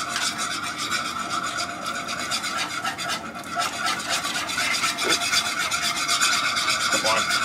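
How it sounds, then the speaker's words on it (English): A whisk works through thickening apple pie filling in a pot, making a continuous, close scraping and rasping churn with a fast, even rhythm and no talking. "Just gonna add a little bit of this. And start whisking this up."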